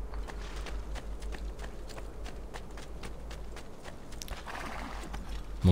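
Horse hooves clip-clop in Assassin's Creed 2, a steady run of light, evenly spaced hoofbeats at moderate distance over a soft background bed, without talk.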